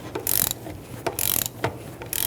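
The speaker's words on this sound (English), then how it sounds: "with our 35mm socket and our torque wrench set for 221 foot-pounds, we're going to torque that axle nut" A torque wrench with a 35mm socket tightens the rear axle spindle nut to 221 foot-pounds on a 2000-2007 Ford Taurus 3.0L V6 during a rear wheel bearing and hub replacement, giving three close, loud ratcheting pulls of rapid clicking, separated by brief pauses.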